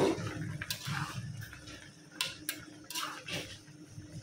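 Papaya pieces go into a cooking pot with hilsa fish, bringing a few close metallic clanks and clattering knocks of utensils against the pot, with faint background hiss.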